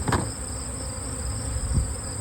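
Honey bees buzz steadily at close range while being scooped, a soft continuous drone with a couple of brief louder passes, and no voices.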